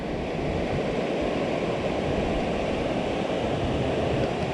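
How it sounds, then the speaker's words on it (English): Fast-moving river water rushes past old floodgates on a rail trail, a loud, steady broadband roar that stays constant throughout with no pauses. "That water's really moving."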